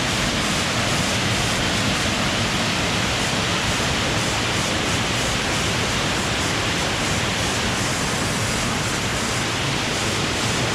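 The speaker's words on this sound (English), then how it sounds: "another waterfall." A Vancouver Island waterfall on an off-the-beaten-path trail, a loud, constant broadband roar of falling water that stays steady from start to finish, with no voices.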